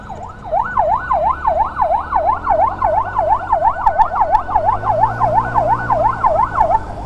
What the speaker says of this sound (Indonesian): ambulan emergency di belakang